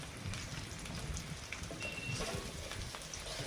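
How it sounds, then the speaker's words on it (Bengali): Garlic sizzles and crackles steadily in hot oil in a pan, a dense close hiss with scattered pops throughout, cooked for a fish and cauliflower dish. "ভেজে নেব"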